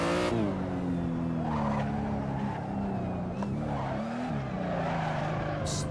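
An Aussie Drift Co BMW M3 drift car in Assetto Corsa screeches its tyres over a loud, steady engine drone whose pitch climbs and dips as the car slides, sustained with no pause.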